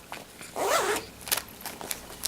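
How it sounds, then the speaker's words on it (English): A zipper with a bumblebee-shaped pull on a fabric storage bag is pulled in one quick close rasp, followed by a few light clicks and rustles. "And it has a bumblebee zipper pull."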